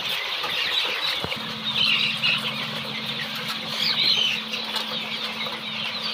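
Golden Misri chicks squabble noisily, with shrill squeals and chirps and bursts of wing flapping over a steady low mechanical hum throughout.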